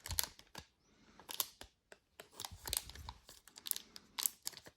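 Crinkly foil of a Pokémon card booster pack being opened along its side, a run of sharp crackling crinkles and tearing bursts separated by short quiet gaps, close and fairly soft.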